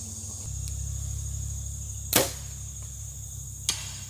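A hunting arrow with a heavy 588-grain shaft leaves the bow with one sharp snap and whoosh, followed later by a fainter second crack, against steady outdoor hum.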